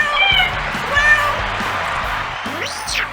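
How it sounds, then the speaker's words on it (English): A cat gives a couple of short, rising meows over a hum of background noise and a faint crowd-like murmur, with brief bits of speech around them. "her royal buckiness, the world's most amazing cat, Bucky."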